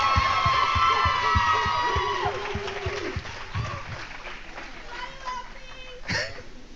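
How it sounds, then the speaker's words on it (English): An audience at an inspirational talk claps and cheers for Lauren, with loud whoops and shouted voices riding over the applause before it thins into scattered crowd voices and a late cough-like burst. "Can y'all give Lauren another hand clap?"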